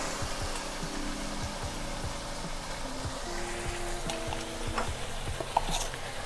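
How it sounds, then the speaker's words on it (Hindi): Creamy chicken white karahi is stirred in a pan on low heat, giving a steady bubbling sizzle with soft rhythmic scraping strokes. "इसको अच्छे से मिक्स करेंगे और आग इसकी हल्की कर देंगे।"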